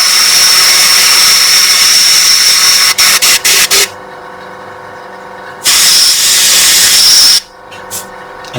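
An airbrush sprays paint onto a Mando figure with a loud, close, steady hiss. It sputters briefly, cuts out for a couple of seconds, then resumes in a second long burst before stopping.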